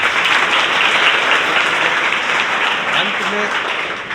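A gathered audience applauds at a charitable trust event, a loud, continuous burst of clapping that holds steady and tapers slightly at the end, with faint voices beneath.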